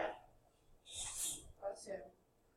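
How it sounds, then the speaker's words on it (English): A single sharp sneeze bursts out, preceded by a quick inhale and followed by a couple of short breathy exhalations, close to the listener. "I've got to sneeze there."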